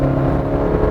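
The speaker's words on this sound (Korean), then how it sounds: "다시 한번 이렇게 엑셀링을 해봐도" The gasoline engine of a 2024 Chevrolet Colorado pickup revs as the truck accelerates, a continuous steady hum with a faint whir, close and fairly loud with no voices.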